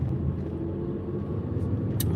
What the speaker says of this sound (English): All these trucks, I guess they still out here trying to plow the snow off the road a little bit.